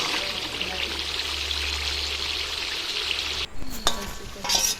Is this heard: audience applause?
no